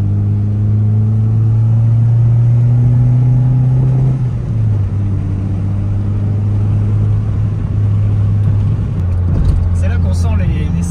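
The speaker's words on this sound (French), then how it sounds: "Même à plus haut régime, ça pète hein." A 1997 Fiat Cinquecento Sporting, about 735 kg with two people aboard, driving on a faster road: its small engine drones loudly at high revs from inside the cabin, easing down in pitch midway and then rising again.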